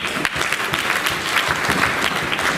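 Loud, continuous applause from a large crowd, dense and steady throughout with no pauses.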